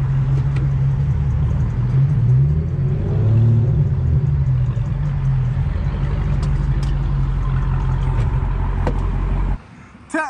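A naturally aspirated Infiniti G37, out on its first drive in five months, rumbles steadily from inside the cabin, a deep, loud engine drone that drops away abruptly near the end.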